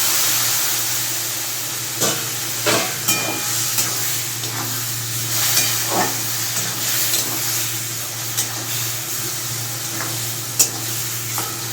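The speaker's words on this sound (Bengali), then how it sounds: "একটু কষিয়ে নেব।" Potato and bitter gourd curry with mustard paste sautés in a pan, giving a steady close sizzle broken by occasional scraping stirs.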